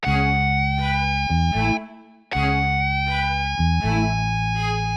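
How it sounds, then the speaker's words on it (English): A sustained guitar sample pitch-shifted up two semitones, with bright ringing harmonics in phrases that pause briefly and then repeat, playing loud and alone. "I got this guitar and I'm gonna go into the channel pitch"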